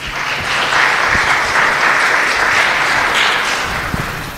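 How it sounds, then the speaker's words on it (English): Audience applause at an evening public forum on guns in America, a steady wash of many hands clapping that holds loud and even for several seconds before easing slightly at the end. "Let's give a round of applause to welcome him."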